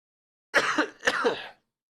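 Two harsh coughs or throat-clearing bursts from a man who is sick, back to back and close up, each about half a second, with no talk around them.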